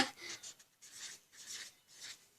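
A pen scratches points down on paper during a family wheel-spinning game, faint close scribbling strokes in short repeated bursts, with no talking.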